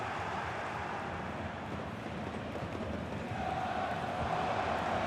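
Dense, steady stadium crowd roar from a football match in EA Sports FC 26, a continuous wash of cheering noise sustained throughout at moderate level with no clear speech.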